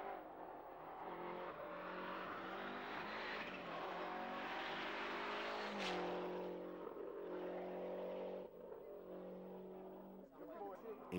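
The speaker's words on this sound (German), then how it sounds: "In herrlicher Abendstimmung rasen die Autos hier in der 25. Spezialprüfung die Schotterstraße vom berüchtigten Quad Coeur hinunter." Rally cars race down a gravel road on the 25th special stage of the 1991 Rallye International du Valais, engines roaring loud and near under a commentator's voice, one car passing close.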